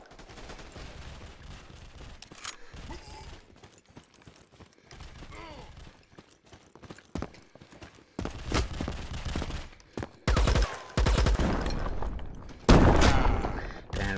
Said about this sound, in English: someone's shooting me, but I don't know where they're from there